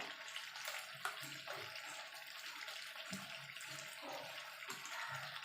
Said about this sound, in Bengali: এখানে আমি গরম জল দিচ্ছি